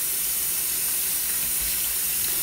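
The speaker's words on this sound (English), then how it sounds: "See, I washed it in some hot water." Tap water runs steadily into a kitchen sink while collard greens are washed, a constant close-up hiss and gush with no pauses and no talk.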